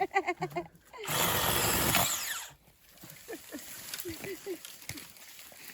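A power saw cuts through trees outdoors, one loud, harsh, sustained burst of about a second and a half, with people talking before and after it.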